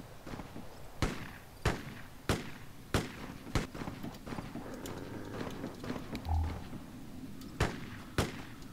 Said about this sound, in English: So I can hear gunshots.